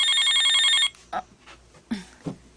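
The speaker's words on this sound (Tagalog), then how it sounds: "ang cellphone ko. Nagring." A cellphone rings with a bright, repeating electronic tone pattern for almost a second, loud and close, then stops; a few soft knocks and brief sounds follow.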